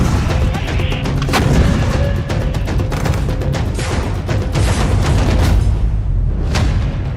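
Explosions and gunfire on the Israel-Lebanon border make a dense, continuous rumble with repeated sharp booms and cracks, loud and unbroken, with no voices.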